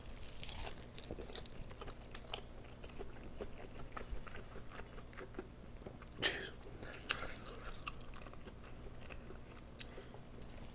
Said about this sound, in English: That's a hefty munch.